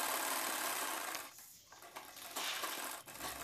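A sewing machine stitches a bra-cut blouse, a close continuous mechanical whir that dips into a brief pause midway, then resumes, with no one talking.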